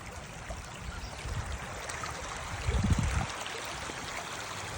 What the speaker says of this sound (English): Would you guys call this a creek, river, or stream?